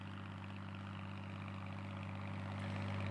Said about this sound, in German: Den Traktor fährt er uns zuliebe.